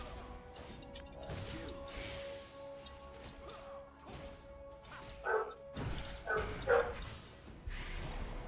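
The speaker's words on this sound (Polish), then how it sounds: "Nie szczekaj!" A dog barks several times in short bursts in the background of a League of Legends game session, sharp yaps standing out over faint game sounds and room noise.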